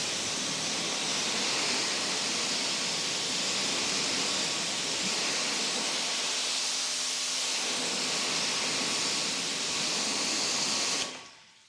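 An AR630 V2 electric pressure washer sprays water in a loud, steady, broadband hiss that runs continuously and then cuts off abruptly near the end, with no talk.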